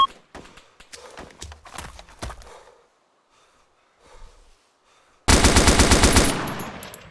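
Gunfire in the military game Arma 2 as a soldier engages a target: after shuffling footsteps and movement and a quiet stretch, a sudden loud, rapid burst of automatic fire rattles for nearly two seconds.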